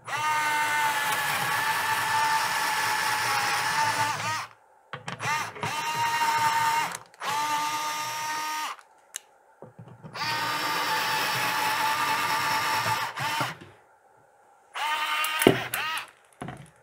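A Bosch GO 2 cordless screwdriver whirs in several long bursts separated by pauses as it drills, its motor whine close and loud, stopping and restarting.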